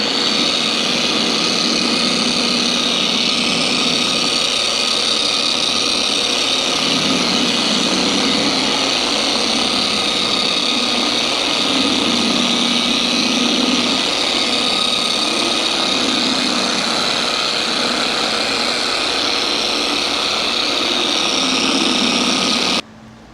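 A power polisher fitted with an abrasive pad works over the paint of a Mazda RX-7, giving a continuous, close, high-pitched motor whine with a slightly wavering tone from start to finish.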